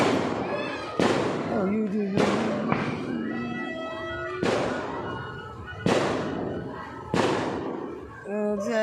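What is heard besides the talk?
fireworks set off at a nearby mall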